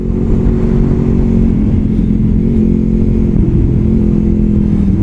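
A Honda VFR 800 V-TEC sport-touring motorcycle engine drones steadily while riding, a loud, smooth, continuous mid-pitched hum with wind rush and no break in tone.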